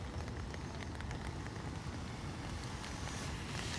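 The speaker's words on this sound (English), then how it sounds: "let's get out of this rain." Outdoor rain falls steadily around a walking recorder, a thick continuous wash with wind buffeting the microphone, loud and unbroken.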